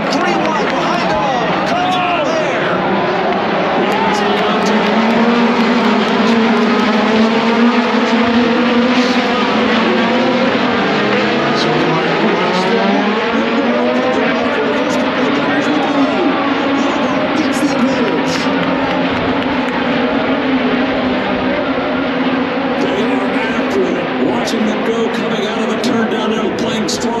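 IndyCar race cars roar away from the start of the Indy Grand Prix on lap one, charging down to the first-turn braking zone. The loud, continuous engine wail rises and shifts as cars pass, with commentary running over it throughout.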